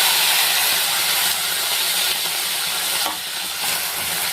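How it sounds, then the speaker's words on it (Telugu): Tomato pieces tossed into a hot pan give a loud, hissing sizzle that runs without a break and eases slightly partway through. "ఇప్పుడు టమాటా ముక్కలు వేసుకుందామండి"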